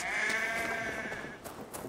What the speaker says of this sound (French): Putain, par contre, les moutons.